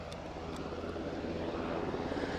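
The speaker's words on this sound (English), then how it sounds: "With the chopper departing from behind me." A helicopter departs from Aberdeen airport, its engine and rotor producing a steady, broadband roar that holds loud and unbroken throughout, with no talk.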